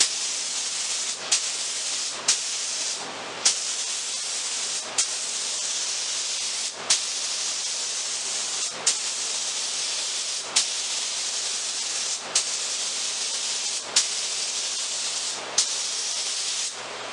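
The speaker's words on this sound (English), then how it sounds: "So I'll start to spray some on and we'll see how we do." A spray gun hisses steadily while tinted color goes onto a mahogany dresser top, one continuous spray broken by short regular pauses and clicks, close and even.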